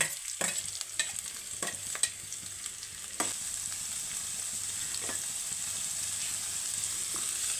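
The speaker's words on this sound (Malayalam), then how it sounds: "ഇത് കുറച്ചൊന്ന് വഴണ്ട് വരട്ടെ" Carrots sautéing in a pan for upma, with a steady low sizzle running throughout and a few sharp clinks and scrapes from a spoon stirring at irregular intervals, close and alone without talk.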